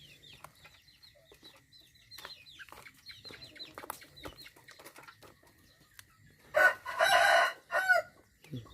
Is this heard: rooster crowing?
yes